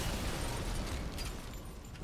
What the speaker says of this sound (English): Bam, pipe bomb.